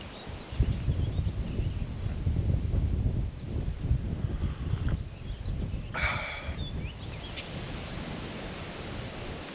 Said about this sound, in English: if you can hear the wind whipping through the trees over there